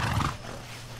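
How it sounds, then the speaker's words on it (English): A horse in the video game Far Cry 6 lets out a short, close whinny that fades into a low rumble, brief and fairly loud. "I want to be getting on the horse."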